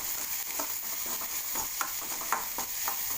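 Tomato with salt fries in a pan and is stirred, giving a soft, quiet sizzle broken by repeated light scraping strokes.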